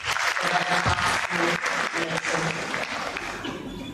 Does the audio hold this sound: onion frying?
no